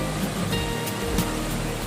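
River water pours down through a filter at a riverside at night, making a dense, steady rushing roar with little variation, loud and close.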